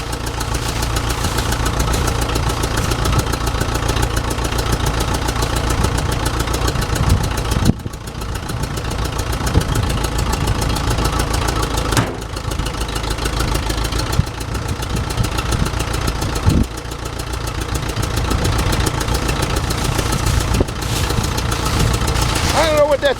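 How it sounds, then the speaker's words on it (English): A small tracked machine strains as it drags a big log out of the woods, its engine running steadily and loud throughout with a low, rough mechanical drone and brief dips in load. "That little track machine knows it's got a hold of something"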